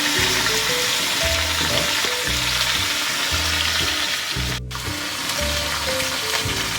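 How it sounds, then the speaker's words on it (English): Turkey pieces browning in a pan for a brown turkey stew, with a steady, close sizzle and frying crackle running throughout, punctuated by occasional stirring scrapes and a brief lull near the end. "just browning it up, got a nice bit of colour on it"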